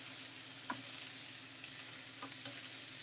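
A pork and apple burger fries in a pan on turned-down heat, a faint, steady sizzle with a couple of light ticks and clicks from the pan.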